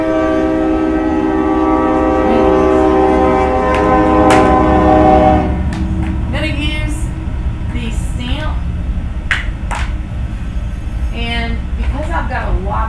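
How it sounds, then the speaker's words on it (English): A train rumbles past close by, its horn sounding long sustained tones for about the first five seconds, then steady rolling wheel and rail noise continuing with a voice speaking over it. "a train would come through at the same time I'm"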